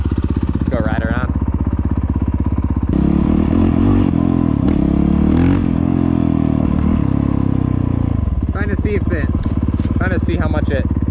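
A Honda CRF450L supermoto motorcycle runs up close as a loud, continuous engine drone that swells while riding, with wind rumble and a voice talking over it.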